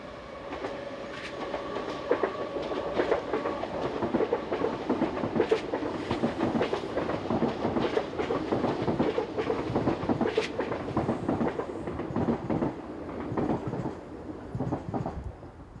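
A pair of Z8800 electric multiple unit trains runs past near La Verrière, a steady rumbling roll with repeated clickety-clack wheel beats over rail joints, loud and close throughout with no voices.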